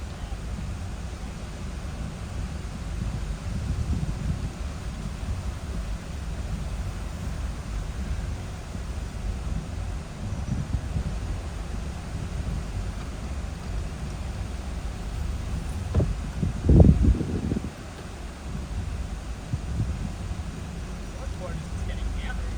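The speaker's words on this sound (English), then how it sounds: "Here comes a really big gust." Powerful wind gust during Hurricane Helene in St. Petersburg on Tampa Bay, Florida: a steady, dense roar of rushing air that swells into a brief, louder burst near the end.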